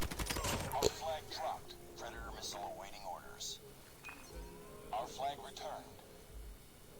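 Gunfire from PUBG Mobile, played on a Mi 10T 5G, rattles in a quick burst of shots at the start, followed by scattered, fainter shots while someone talks throughout.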